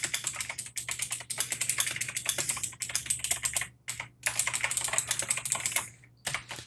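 Typing on a computer keyboard while entering blog category details, a steady, close patter of quick key clicks with a few short pauses and no talking.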